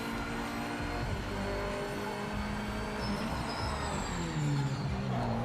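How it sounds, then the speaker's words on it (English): Car engines roar in the racing video game PMR, a dense steady drone with rising and falling revs and gear changes, loud and continuous with no talking. "the engine sounds are great"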